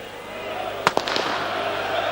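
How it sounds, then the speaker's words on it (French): A few firecrackers burst in quick succession amid a football stadium crowd during a European Cup group match, sharp cracks over a constant roar of cheering fans and match commentary. "Et des pétards et toujours autant d'encouragement."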